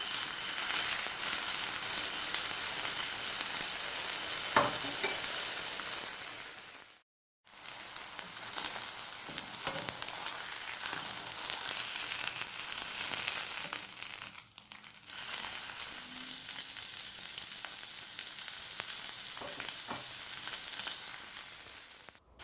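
Chicken breast searing in a hot Teflon pan gives a steady crackling sizzle with occasional pops, cutting out briefly twice before resuming.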